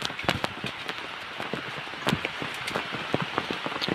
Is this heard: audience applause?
no